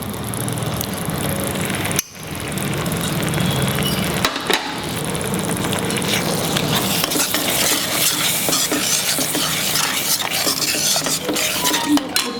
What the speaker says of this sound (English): keep on stirring. Now fold in the half cup of whisk curds